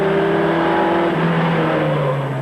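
A historic kit sports racing car at Oran Park circuit roars loudly and close, its engine note holding steady then dropping to a lower pitch as it pulls through, with no voices.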